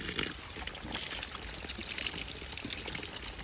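Cold, clean spring water trickling and splashing steadily at an outdoor spring, a continuous bright wash of flowing water with no talk.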